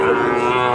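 Sahiwal cattle at a livestock market give a single short, loud, close moo with a full, rich lowing tone.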